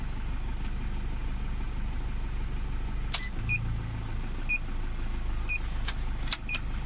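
An idling turbocharged Toyota Fortuner engine hums low and steady, with a few short electronic chirps and a brief whir partway through.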